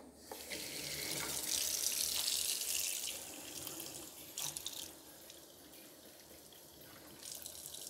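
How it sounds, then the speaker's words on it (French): Water pours from a tap into a kitchen sink, a steady rushing splash for several seconds, surging louder early on, with a few short splashy bursts before tapering to a softer flow. "je voulais montrer l'effet lorsqu'on verse de l'eau"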